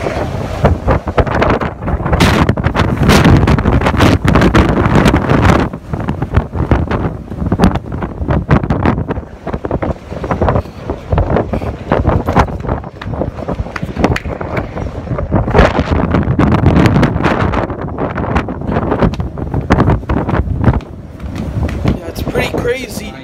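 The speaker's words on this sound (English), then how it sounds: "I want you guys to hear how windy it is up here." Strong wind buffets the microphone on the upper deck of a cruise ship at sea, a continuous, roaring rumble with gusty surges, along with faint sea and boat noise.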